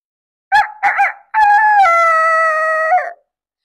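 A storyteller's voice imitates a rooster crowing loudly in the morning during a children's storytelling contest: two short clipped calls, then one long drawn-out crow, loud and close with nothing behind it.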